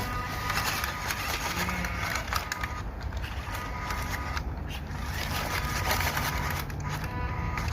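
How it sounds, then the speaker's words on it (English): A JJRC Q65 RC truck's small 130 motor strains at full throttle on a light trail, a steady continuous whirring drone with gritty texture that holds loud and close throughout, no voices over it. "that 130 motor is still struggling, as you can see. Got the throttle pinned here."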